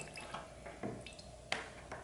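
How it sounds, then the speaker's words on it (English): Water drips from a shutoff valve on a small generator, a few faint, scattered plinks against a quiet background. "Dripping a little bit."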